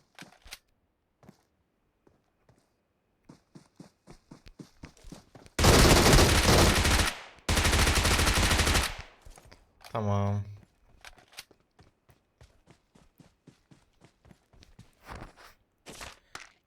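Gunfire in PUBG Mobile comes as two long, loud sustained automatic bursts in the middle. Faint game footsteps tick steadily before and after, and a short rising mechanical whir follows the shooting.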